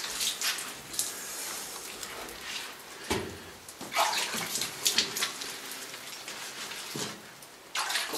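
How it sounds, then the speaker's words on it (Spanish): Water splashed or sprinkled onto dry Cabrales cheeses during ripening, a close, rain-like wet patter with irregular bursts of dripping and splashing, and no talk over it. "si están secos, pues se los moja con un poquitín de agua"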